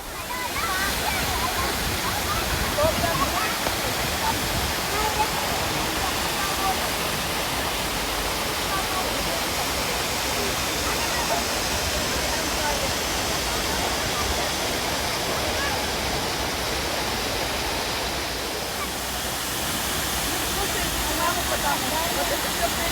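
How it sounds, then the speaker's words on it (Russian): Upper Düden waterfall in Antalya with a rushing mountain river, a loud, steady broadband roar of falling and churning water close by, continuous throughout with no break. "Горную реку вы видите прямо рядом, и она такая бурная, живая."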